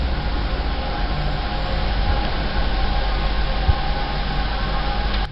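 Steady low rumbling roar of a train running through a tunnel inside a cave, continuous and fairly loud with a faint metallic hum, without talk.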